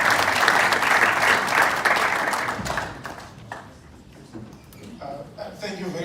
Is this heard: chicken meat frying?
no